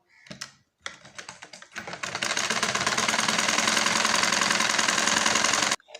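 A sewing machine stitches palazzo pants: a few short hesitant bursts, then a long steady rapid whirring run that stops abruptly near the end.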